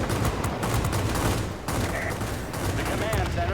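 Aircraft guns rattling in World of Warplanes aboard a Ki-94-I fighter, a dense continuous burst of rapid fire over loud engine roar, with a brief dip midway before the firing resumes.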